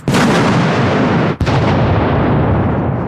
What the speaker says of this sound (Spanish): La fuerza de la explosión hace que las bolas penetren en el soldado y en las rocas cercanas